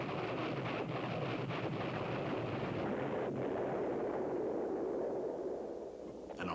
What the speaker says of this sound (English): The tactical land attack version can carry various warheads. This is distributing multiple bomblets.